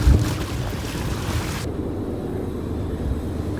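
Steady wind gusting across open water on Lake Michigan, a broad rushing roar with low rumble, continuous and close to the microphone, heard from a boat in rough conditions.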